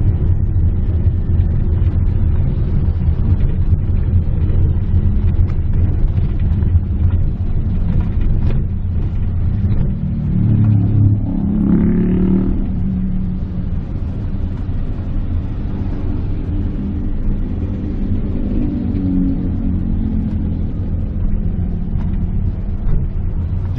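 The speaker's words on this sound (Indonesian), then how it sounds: "dengerin suara mobil atau suara motor di luar kerekam apa enggak" Steady low road rumble inside a Mitsubishi Xpander Cross with NoiseKill NK60 sound damping, muffled passing cars and motorbikes outside and a louder vehicle swelling by near the middle; no talking.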